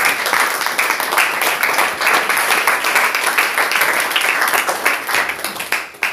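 A church congregation applauds, steady broad clapping from a crowd that carries on for several seconds before thinning out at the end.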